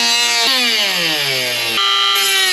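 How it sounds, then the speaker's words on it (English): Dremel rotary tool trimming a plastic clip during an auxiliary switch install, a steady high whine that dips in pitch under load and then rises again as the bit frees up, loud and close, with no talking. "So I just got done trimming with the Dremel"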